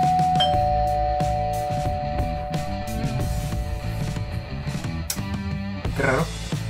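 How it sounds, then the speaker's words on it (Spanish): A doorbell rings amid a busy indoor background, its chime tone sustained and mixed with other clattering sounds and music-like hum, moderately loud with no speech. "Juré escuchar que tocaban el timbre"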